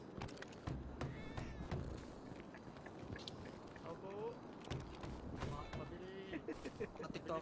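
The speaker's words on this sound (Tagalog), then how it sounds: "Pwede bang pumatay ng pusa rito?" Meows from cats in a video game set among market stalls, several short cries rising over a busy game soundscape, while someone talks over them.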